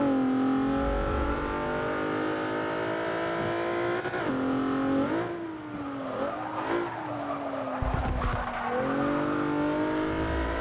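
A 1999 Lancer Evo VI GSR racing in Forza 6 during a league race: its engine revs up and down through gear changes, with tire skidding and squeal. The sound is loud and continuous, with no talk.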